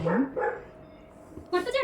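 A hungry pet dog barking for food at home, with a few short yips and barks close by and a voice talking over them.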